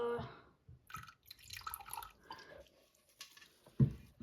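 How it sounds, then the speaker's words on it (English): Fresh water trickles and drips into a snake enclosure as it is topped up, a light splashy pouring with scattered droplets and a louder splash near the end, no talking. "I'm going to top it up with a little bit more fresh water"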